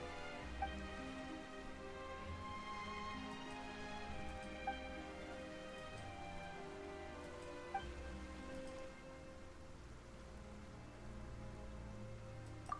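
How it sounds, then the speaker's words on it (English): Steady rain falls in the video game Genshin Impact, a continuous soft patter of drops under a layered sustained music bed, with a few faint ticking accents throughout. "Why is it raining all of a sudden?"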